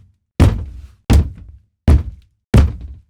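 Four heavy, evenly spaced thuds pound on a door, each a loud close impact followed by a short decay and silence between.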